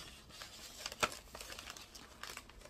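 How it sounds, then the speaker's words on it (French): A small item slid back into a paper envelope, with soft crinkling and rustling of paper and one sharper crackle midway, close and quiet with no speech. "je vais le remettre dans son enveloppe"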